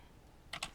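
Two quick close keypresses on a computer keyboard while entering AutoCAD commands, a brief double tap after a moment of quiet.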